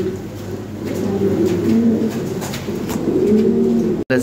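Large Lahori pigeons give deep, overlapping coos almost without pause, close and fairly loud over a low steady hum.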